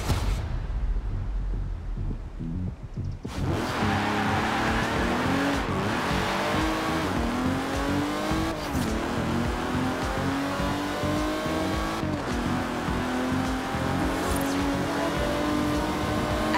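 Engine note of a car driven in the racing game Forza Horizon 4: a faint revving intro gives way to loud, rising acceleration with gear changes and occasional tire squeal, continuous and close with no talking.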